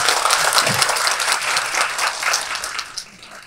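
Audience applause at a youth and regional-community conference session, a steady wash of many hands clapping at moderate volume that gradually thins out toward the end.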